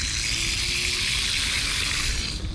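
A Kukirin G2 electric scooter rolls through a deep water puddle, giving a steady, loud rushing splash of water that holds for a couple of seconds and eases off at the end.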